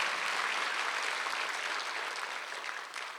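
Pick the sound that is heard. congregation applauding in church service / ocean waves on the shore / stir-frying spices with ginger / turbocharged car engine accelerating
congregation applauding in church service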